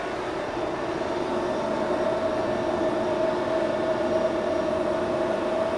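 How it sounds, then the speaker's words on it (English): A quiet generator runs indoors with a constant, even hum and a faint steady tonal drone, unchanging throughout with no talk. "That's a quiet generator."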